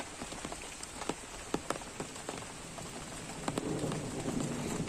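Steady rain patters on a hard surface, with scattered louder drops tapping irregularly and the shower thickening slightly toward the end.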